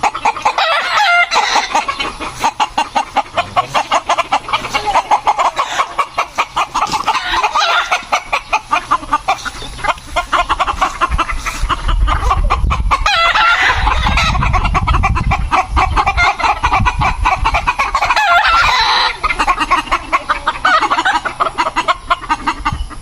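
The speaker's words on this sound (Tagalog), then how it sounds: "grabe talaga siyang manok" Chickens on a farm, with a rooster crowing repeatedly over constant clucking and fowl chatter, loud and close throughout.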